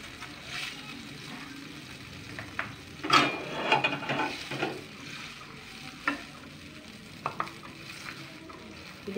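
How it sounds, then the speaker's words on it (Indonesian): Pot of boiling water holding potatoes and lontong being stirred in a home kitchen, with a spoon scraping and knocking against the pot over steady bubbling hiss, with no talking. "Mama aduk dulu sebentar ya"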